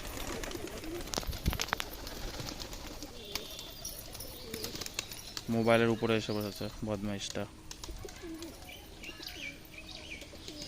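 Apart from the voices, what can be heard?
lotan pigeons cooing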